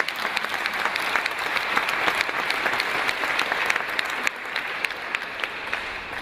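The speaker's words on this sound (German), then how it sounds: "You all give him a good clap" A church congregation at a sermon claps together in a sustained, even round of applause that stays dense and steady throughout, with no voices over it.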